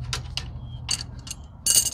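Metal wrench clicks and ratcheting as nuts on the S-tines of a Wunderbar potato hilling tool bar are loosened, several short sharp bursts over a low steady hum, close by.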